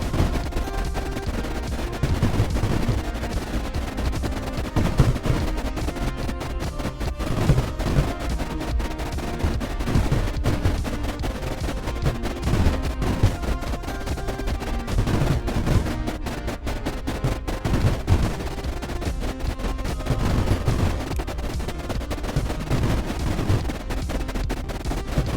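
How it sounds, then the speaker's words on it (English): Explosions in the video game Creeper World IXE, set off by embers, crackle and pop in a dense, nonstop barrage of rapid bursts over a rumbling bed of game audio. "there were definitely embers down here that are causing the explosions"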